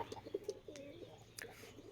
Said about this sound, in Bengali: আর এই যে কবুতরগুলো